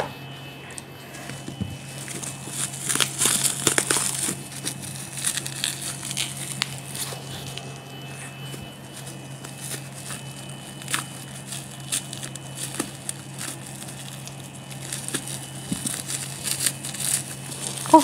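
Close crinkling and crushing of packaging as a parcel of Bengali books is unwrapped, in bursts of rustling and crackling over a faint steady hum.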